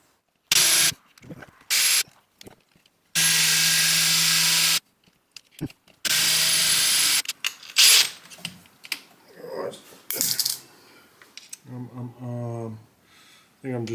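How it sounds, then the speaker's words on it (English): A power drill bores holes for mounting a cross slide scale in a workshop, in several loud bursts of steady whirring separated by pauses, followed by quieter rattling handling noises. "Oh, just drill a hole there."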